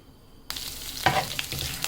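A sudden burst of sizzling as a frozen ginger-garlic cube drops into hot oil, crackling and spitting close by, with no voices.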